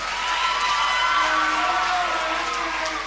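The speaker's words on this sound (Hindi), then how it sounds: "सबसे पहले तो हमारे तमाम पार्टिसिपेंट्स के लिए एक जोरदार ताली" Enthusiastic clapping, cheering and whoops from a crowd for the participants at a live Independence Day show of national songs and speeches, sustained and dense throughout.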